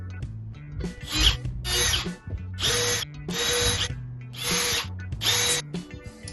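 A power drill deepens screw holes in a door for a Yale hydraulic door closer, running in about six loud, close bursts with short pauses between them and a gritty grinding whine through the material.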